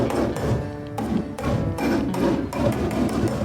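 A hammer knocks repeatedly from below against the metal roof panel of a 1957 Chevy under restoration, a steady series of loud, close thumps with a faint metallic ring after each blow.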